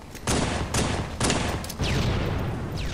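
Gunfire in a first-person shooter video game at Waterfall, three loud bursts of rapid shots in quick succession, each a broadband crack trailing into rattling echo.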